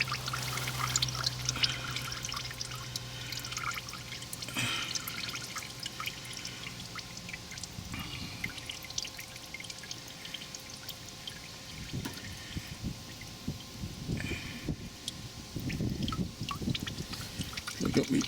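Warm engine oil drains from a Ford Falcon into a catch tray, a steady trickling pour with dripping, close and continuous throughout.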